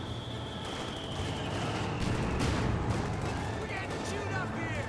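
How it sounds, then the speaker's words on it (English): Two Wehrmacht mortars in Company of Heroes 2 barrage in a rumbling stream of booming impacts amid continuous battle noise, growing louder in the middle. "Double Wehrmacht mortars barraging away."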